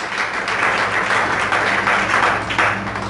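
A church congregation claps together in a steady, dense burst of applause lasting a few seconds, filling the space with continuous hand clapping and no clear voices over it.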